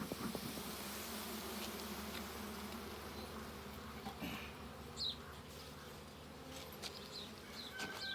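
Honey bees buzz steadily around an open hive during a four-week inspection of a package colony being smoked, a continuous droning hum close up with a few individual bees passing nearer, and no talk.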